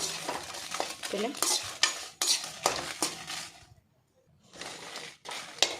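Chickpea and ivy gourd sukka, a Tulunad dish, frying in oil on a slow fire while a spoon scrapes and clatters busily around the pan over a low sizzle. It falls briefly silent, then the stirring resumes, with no voices.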